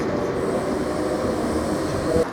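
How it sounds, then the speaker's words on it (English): A small suburban train is in motion, heard from on board as a continuous, loud, steady rumble of wheels and carriage noise with no clear speech. "So I'm heading off on the little suburban train up to Sendentra."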